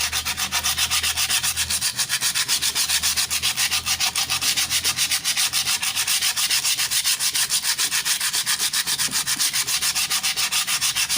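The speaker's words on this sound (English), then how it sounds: "Now I'm also going to try to sand a bit of the surface here" Wooden surface sanded by hand, heard as a loud, close, continuous rhythmic rasp of rapid back-and-forth strokes, with no voices.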